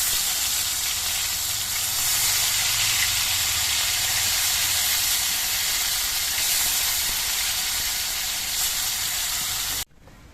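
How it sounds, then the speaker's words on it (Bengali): Steady, loud sizzling of bata fish frying in hot oil in a kadai, a continuous crackling hiss that runs unbroken before cutting off abruptly at the end. "এইভাবে বাকি মাছগুলো আমি ভেজে নিচ্ছি"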